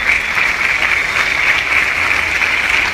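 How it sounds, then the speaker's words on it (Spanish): An audience applauds steadily and loudly for the Tecnológico team at a 2017 interuniversity sports games opening, a dense continuous clapping with no talk over it. "un fuerte aplauso para ellos, por favor"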